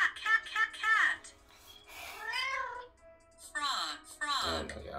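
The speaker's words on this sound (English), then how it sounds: "Cat." A cartoonish cat meow from a phone game plays in bursts, with rising and falling synthetic mews and a person talking in between.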